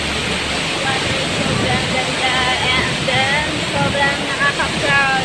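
A waterfall in Sorsogon pours as a loud, steady broadband rush of falling water, close and continuous, with faint birdsong chirps threading over it.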